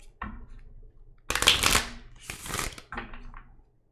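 A deck of playing cards being shuffled in several quick riffling bursts, close and fairly loud, with short pauses between them and no talking.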